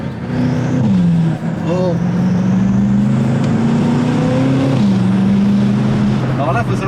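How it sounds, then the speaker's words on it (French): BMW M5 F90 twin-turbo engine droning steadily from inside the car, rising and shifting in pitch with a gear change, loud and continuous while people talk briefly over it. "Oh le bruit des turbos, c'est vrai."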